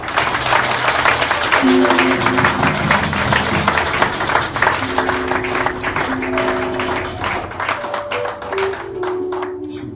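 A church congregation applauds and cheers together in a dense, sustained burst of clapping, with sung or held voices and instrumental tones rising above it before the noise thins toward the end.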